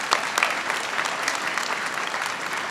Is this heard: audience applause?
yes